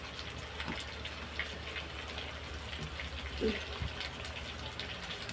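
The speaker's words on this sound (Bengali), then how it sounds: "এবার দিয়ে দিচ্ছি জল" Water poured into a cooking pan while making a puti fish dopeyaja curry, a soft steady gushing and splashing that runs on low and even with no talk over it.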